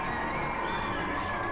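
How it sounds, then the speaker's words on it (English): A GamesMaster TV studio audience filmed in an old church cheers and shouts loudly and continuously for a brief moment, a dense wall of crowd noise. "Yay for GamesMaster cheer"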